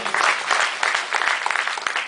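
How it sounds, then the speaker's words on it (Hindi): A crowd claps steadily, a dense burst of loud applause with no one speaking. "वीरों वाली भाषा में जोरदार तालियां आपके लिए"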